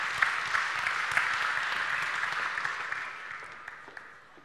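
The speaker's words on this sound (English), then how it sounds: "you may give them an applause" Audience applause at an offshore wind energy workshop in the Netherlands, a steady dense clatter of clapping held for several seconds before thinning out toward the end, fairly quiet overall.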